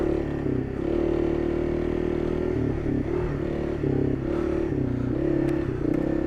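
A Honda CRF300L Rally motorcycle ridden through deep sand on the Oregon backcountry route, its engine droning steadily and loud up close, with small wavering shifts in pitch as the throttle rises and falls.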